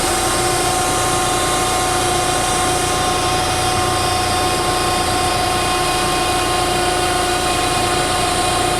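The engine of a powered industrial truck at a quarry runs steadily just after starting. The drone is loud and constant with a whining tone, and nobody speaks.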